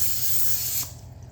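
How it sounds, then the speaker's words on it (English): Pam cooking spray hissing onto a pan in a single steady close burst that cuts off just under a second in. "Spray the pan with Pam."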